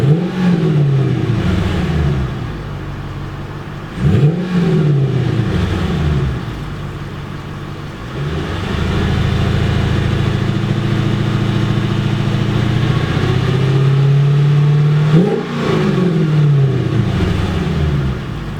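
A Mercedes C55 AMG engine idles in park and is revved several times, each blip rising and falling sharply, with one longer sustained hold of higher revs in the middle, close and loud.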